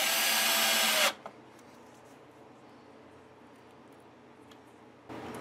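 A power drill drives screws into an Explorer-style electric guitar, with a loud whirring burst at the start, a quiet pause with faint handling, then the drill whirring again at the end.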